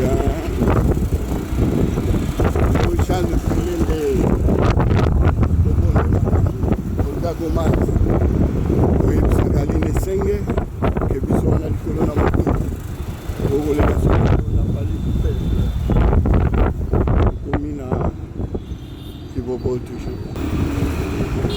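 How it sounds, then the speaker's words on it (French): Strong outdoor wind buffets the microphone during a motorcycle column ride, a loud, continuous rumbling roar lasting the whole stretch, with muffled voices beneath it. "il y a un beau vent"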